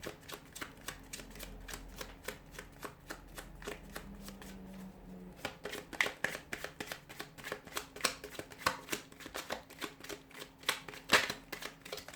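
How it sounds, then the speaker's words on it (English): Close-up riffling and flicking of a deck of tarot cards being shuffled, quiet rapid ticking that grows busier and more rhythmic partway through. "give the cards a shuffle here"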